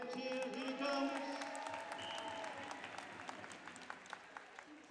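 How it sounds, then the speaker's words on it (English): A stadium crowd at a football testimonial match cheers and applauds a player stepping up for a penalty, a broad sustained roar with scattered clapping that gradually thins out. "give him some encouragement, give him a big cheer"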